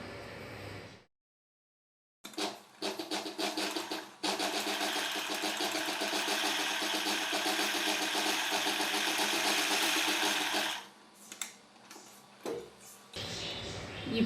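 Sewing machine stitching a blouse seam, a steady close whirring run of several seconds after a short start, then stop-and-go bursts as the fabric is repositioned.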